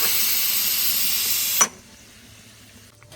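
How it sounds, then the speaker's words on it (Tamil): Steam hissing from a pressure cooker with its whistle removed while dal and sambar cook, a loud steady broadband hiss that cuts off abruptly halfway, leaving a quiet kitchen background with faint sounds. "பாருங்கள், விசிலை எடுத்தாச்சு."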